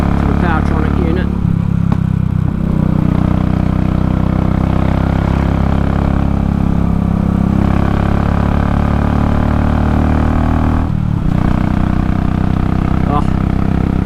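A Royal Enfield motorcycle engine runs steadily on a Race Dynamics Powetronic map during a road test, a loud continuous drone with a couple of brief dips, while a person talks over it.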